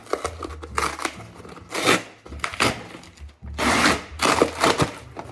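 Crinkling, tearing and rustling as a mailed book package is opened, with bursts of cardboard and paper handling between short pauses, close by.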